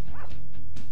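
A cartoonish dog in the Bad Rats video game gives a single short, loud bark-like yelp, close and alone with no talk over it.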